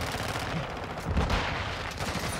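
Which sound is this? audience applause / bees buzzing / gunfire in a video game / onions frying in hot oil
gunfire in a video game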